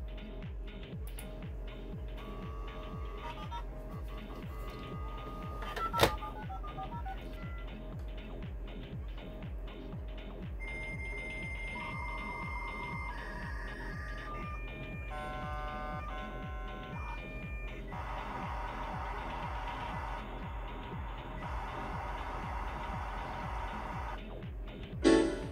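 Dial-up modem connecting to the internet on a Windows 95 machine, a long stretch of layered handshake tones, chirps and hissing static that shift in stages over roughly twenty-five seconds, steady and alone with no talking.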